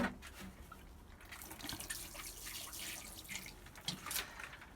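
Water splashing and dripping as garlic planted outdoors gets a watering, with irregular soft trickles and drops, fairly close and quiet with no talk over it.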